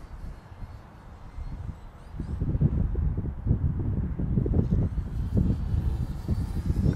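A small electric model airplane's buzzing whine, an E-flite Air Tractor 1.5m, swells as power is added, rising and holding steady with wind noise buffeting the microphone.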